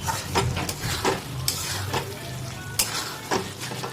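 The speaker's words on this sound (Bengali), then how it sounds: "আমরা গ্যাসের ফ্লেমটাকে একটু হাই করব, দিয়ে এটাকে ভালো করে সাথে মিশিয়ে দেবো" Mutton keema stirred in a pan over a high gas flame, a spoon scraping and clinking against the metal in irregular strokes over a steady close sizzle.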